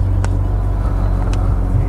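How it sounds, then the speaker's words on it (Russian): A used Japanese car with 5,395 km on the clock idles after starting, giving a steady, loud low rumble close by with two brief faint clicks on top. "Так, ладно, заводим. Вот так он заводится, вот так все загорается."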